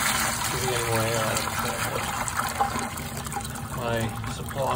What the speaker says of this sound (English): I'm dumping tons of cold water into it